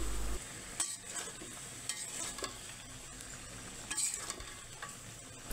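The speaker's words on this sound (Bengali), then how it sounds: "ঢাকনা তুলে নাড়াচাড়া করে দিচ্ছি।" Chicken meat being stirred in a cooking pot with the lid lifted, a soft continuous scraping and faint sizzle with a few louder clatters, no voices.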